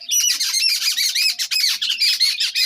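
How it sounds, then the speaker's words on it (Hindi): Many birds squawk close by at a house while they fight and feed, a dense, loud run of harsh overlapping calls with only brief gaps. "और चिड़िया की आवाज़ भी आ रही है, क्योंकि बहुत सारी चिड़ियाँ हैं जो कि मतलब आपस में लड़ाई भी कर रही हैं और खा भी रही हैं।"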